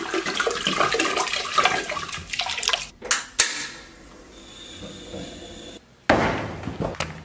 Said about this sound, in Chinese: 然后咱们给锅里边稍微来点料酒